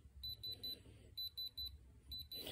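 Sharp electronic beeps from a diamond tester in quick bursts of three, repeating with short pauses, high-pitched and close, as it reads a diamond.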